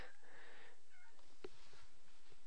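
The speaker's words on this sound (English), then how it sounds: "I'm talking to an actual cat who's making noise." A cat meows indoors, a short drawn-out cry followed by fainter vocal sounds, fairly quiet and close with no talking over it.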